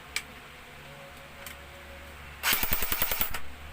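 A Cyma M14 Socom airsoft gun fires a rapid burst of about ten sharp, close clicks in full auto after a few faint isolated ticks over quiet room noise.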